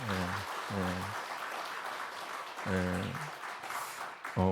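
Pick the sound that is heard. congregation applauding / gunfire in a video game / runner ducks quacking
congregation applauding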